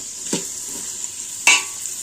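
Onions sizzle in hot oil in a pan for biryani, a steady frying hiss broken by two brief scraping stirs, the second louder.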